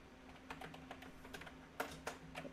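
Code being typed on a computer keyboard, close, quiet, irregular key clicks with a few harder taps, no talking.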